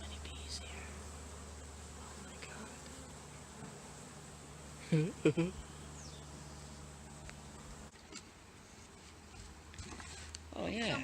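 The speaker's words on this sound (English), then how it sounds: "There's so many bees here." A swarm of bees outdoors in Petaluma, California, a faint, steady buzzing that hangs in the background while people talk and exclaim nearby.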